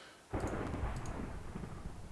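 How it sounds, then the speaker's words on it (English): A rumbling thunderstorm in a Minecraft-style forest game world, brought on by flux, rolls in suddenly as a loud, sustained low roar with crackling texture that stays dense and continuous, with no talk over it. "Ooh, thunderstorms. I think that's a result of my flux."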